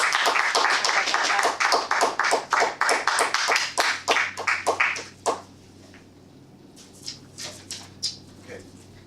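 A small audience at a Toastmasters meeting applauding to welcome a speaker, brisk close clapping that thins out to a few scattered claps before fading.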